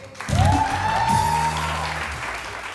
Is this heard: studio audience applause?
yes